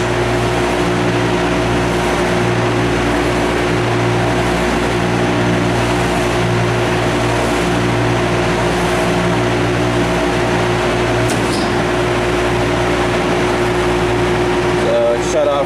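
Steady, loud drone of a running 2019 York 28-ton low-temperature air-cooled chiller compressor, with a constant tonal hum and broadband fan noise throughout.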